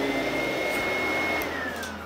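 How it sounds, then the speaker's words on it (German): A vacuum cleaner runs steadily and loudly close by with a constant motor drone and a whine that shifts slightly in pitch, sounding near a French bulldog. No one speaks. "Und auf diesen Staubsauger hat er absolut keinen Bock."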